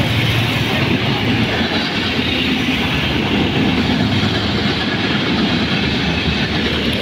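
A train on the rail line below rumbles past in Laxmi Nagar, New Delhi, a loud, steady roar of wheels and carriages that holds through the whole stretch without a break.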